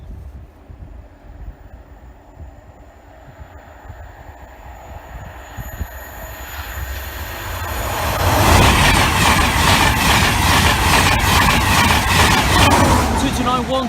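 An LNER electric train runs past Egmanton level crossing, starting as a low rumble in the distance and growing into a loud, steady roar of wheels and rails over its final seconds, with no talk over the passing.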